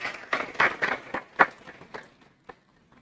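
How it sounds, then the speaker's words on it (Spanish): Children are applauded in a church congregation with a burst of hand clapping that swells quickly, peaks, then thins out to a few scattered claps and fades into quiet. "Un aplauso para los niños."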